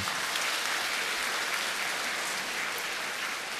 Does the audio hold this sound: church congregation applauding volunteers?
yes